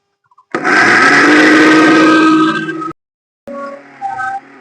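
A mixer grinder whirs loudly for about two and a half seconds while grinding homemade pitambari brass-cleaning powder, then stops abruptly; after a short pause a fainter, lighter mechanical rattle and hum follow.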